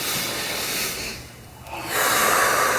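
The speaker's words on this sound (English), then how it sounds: "Another pulse breath." Sharp, forceful breaths through the nose and mouth during a guided breathing exercise, one strong rushing exhale, a brief near-silent pause, then another loud breath close to the microphone.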